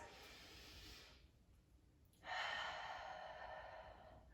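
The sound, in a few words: deep breaths during exercise warm-up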